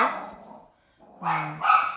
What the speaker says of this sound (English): she thinks that she is a big, bad dog